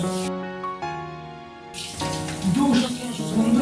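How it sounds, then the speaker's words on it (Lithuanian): A shower of running water starts partway through with a steady hiss, replacing a humming tonal sound at the start, while a voice speaks briefly over the stream. "Dušas, vanduo."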